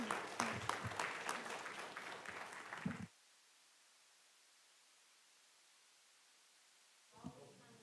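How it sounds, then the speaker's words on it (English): Round of applause at a school board meeting, clapping from the room for about three seconds before abruptly cutting to near silence, then a brief burst of sound returns at the end. "let's give one more round of applause to the members of the committee before we take a photo"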